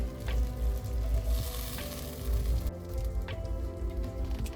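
Tomatoes frying in oil with spice masala for mutton chusta, a steady close sizzle with occasional stirring scrapes and soft squishy bursts.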